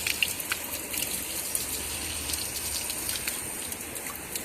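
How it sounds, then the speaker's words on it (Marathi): Drinking water flows at an old village water source built by a grandfather, making a faint, steady, airy trickle and splash that continues without a break. "इथे दाखवते गंगेसारखं पिण्याचं पाणी पण आहे"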